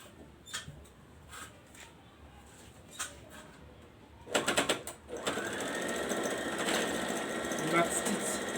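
A domestic sewing machine runs a steady continuous seam, top stitching an eighth of an inch along the edges of a shield piece with back stitching at each pocket, preceded by brief handling clicks and a short start-stop burst.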